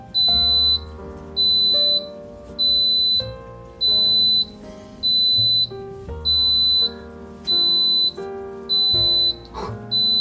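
An Instant Pot electric pressure cooker's loud, shrill finished beeping repeats in a steady rhythm, each tone held about a second with brief gaps, close by and alone.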